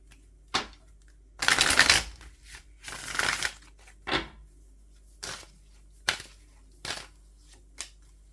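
A tarot card deck is shuffled by hand in quick bursts of riffling and snapping, including two longer riffles early on, then a string of single sharp card taps spaced about a second apart, close and fairly loud with no talking.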